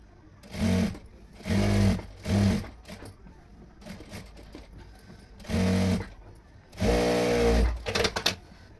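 Sewing machine stitching a dress made from a saree while extra fabric is attached; close, with several short bursts of running separated by pauses, then a longer final run.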